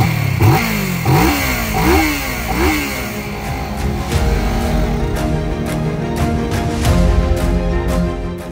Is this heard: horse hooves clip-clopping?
no